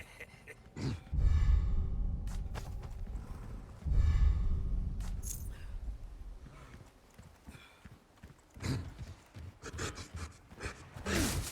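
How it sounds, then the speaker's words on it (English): A brute enemy in Resident Evil 4 Remake breathing heavily, with two long, loud, deep snorting exhalations a few seconds apart, then quieter rasping breaths and scuffling movement. "He's breathing real heavy."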